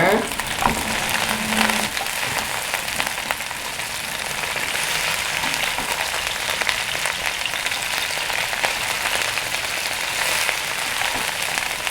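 Broccoli goes into a pan of frying onions for a beef stir-fry, giving a loud, continuous crackling sizzle like rain on a surface, with stirring noises through it.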